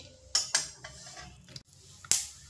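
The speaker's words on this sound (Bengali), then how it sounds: "তো বাদামটা একটু ভেজে নেব।" Raw peanuts are stirred in a hot dry wok, giving a few sharp scraping and rattling clatters over a faint low background, close and quiet between strokes.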